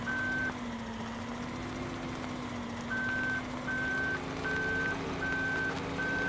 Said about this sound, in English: I want to try and back it around the corner.